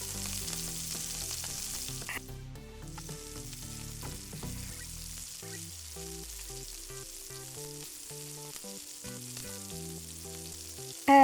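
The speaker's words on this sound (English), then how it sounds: "Then add tomato and parsley paste." Tomato and parsley paste fries in a pan of crab curry, a steady soft sizzling hiss running beneath prominent background music throughout.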